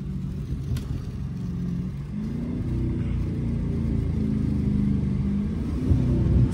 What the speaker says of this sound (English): Let's get some downshifts.